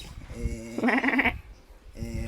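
A goat bleats once in a loud, wavering cry near the middle, with quieter bleat-like sounds at the start and end over faint background noise.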